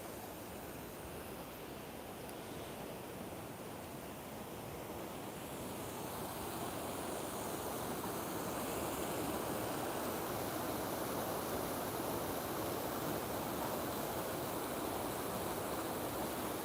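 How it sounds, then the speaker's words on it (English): A small waterfall with plenty of water pouring through it, heard as a steady, full rushing wash that grows louder and denser partway through and continues unbroken, with no voices. "The little waterfall that we walk through isn't doing too bad. There's quite a lot of water flowing through that as well."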